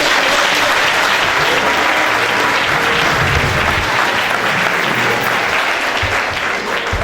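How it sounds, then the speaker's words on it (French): Congregation applauding loudly and steadily during a Sunday church service, a dense continuous wash of clapping from many hands with crowd noise mixed in. "Acclamons le Seigneur."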